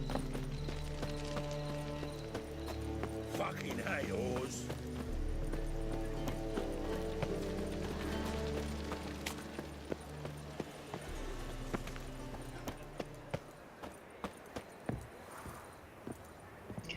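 Horse hooves clip-clop steadily in The Witcher 3, the rhythmic footfalls running under layered game music and ambience for most of the stretch, with a faint whinny possible.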